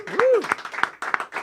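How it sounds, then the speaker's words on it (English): A small audience in a radio station's Boston studio applauds a singer with a handful of sharp, separate claps at roughly even intervals, opened by a brief whooping voice. "Give her a round of applause."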